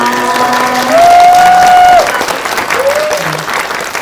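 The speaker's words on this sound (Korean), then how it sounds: "그러면 저쪽으로 퇴장하시는 동안에도 박수로 보내드리도록 하겠습니다." An audience at a Korean film screening Q&A claps loudly and steadily as the guests leave, with a held electronic tone and a short speaking voice partly over the applause.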